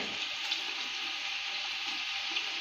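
Steady hissing sizzle of onion frying in hot oil in a pressure cooker, continuous and fairly close, with faint crackles scattered through.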